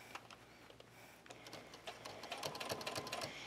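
A sewing machine stitching a buckle strap for cosplay shoulder armor, a faint, quick mechanical whir with light ticking, low in level and steady.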